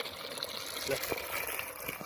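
Water runs from the outlet of a 1700 W BLDC solar pump under cloudy skies, a steady, moderately loud wash with voices in the background.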